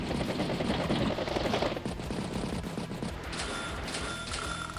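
Battlecopter attack in the Advance Wars video game: a dense burst of rapid gunfire and crashing impacts fills the first two seconds, then a steadier mechanical rattle with bright synthetic tones carries on to the end.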